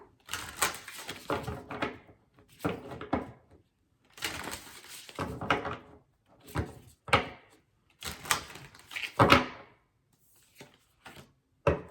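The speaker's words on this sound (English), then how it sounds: "It's hard to shuffle though. It's really big." Bursts of papery riffling and clacking as a large deck of stiff cards is shuffled in clumsy batches, separated by short quiet gaps, close by.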